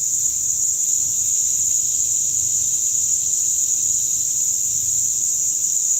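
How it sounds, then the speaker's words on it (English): Insects droning outdoors by a river, one even, shrill, continuous buzz carrying at constant loudness over a quiet low background, with no voices. "we got bugs making sounds out here"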